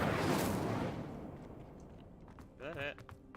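The Incendio fire spell in Hogwarts Legacy bursts with a loud, roaring whoosh that fades over about two seconds, followed by a brief voice near the end.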